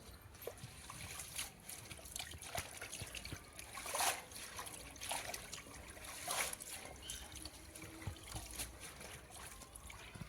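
Mustard greens being washed by hand in water, with faint trickling, light splashes and soft rustling sloshes coming in small irregular bursts, quiet and close.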